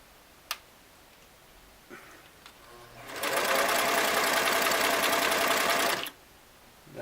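A restored Singer Model 337 sewing machine stitches a narrow zigzag about 1 millimeter wide, running in one steady rattling burst of about three seconds after a few isolated clicks, close up and without speech.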